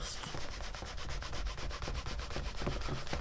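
A rubber stamp is scrubbed back and forth on a stamp scrub pad dampened with cleaner, a rapid, even run of close rubbing strokes lasting throughout with no voices.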